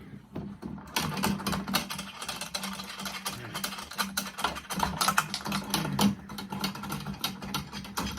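Threaded tension rods being unscrewed from a Ludwig snare drum, a close series of small clicking, ticking and scraping sounds in irregular rhythm.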